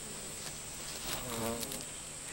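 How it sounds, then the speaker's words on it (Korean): Large fruit flies squabble over food, producing a steady, close insect buzz with soft wing flutters that swell briefly in the middle, with no other sounds. "먹이를 더 많이 차지하기 위해 큰 과실파리 간의 싸움이 벌어졌다."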